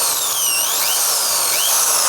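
An H&L PRO 10RE 400W electric drill runs continuously while boring into wood, a loud close steady whine with slight pitch shifts as the trigger is eased.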